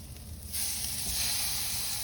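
Swordfish steaks hiss and sizzle loudly on a hot grill as they are flipped, a sudden burst of steady frying noise that continues without pause, close and alone.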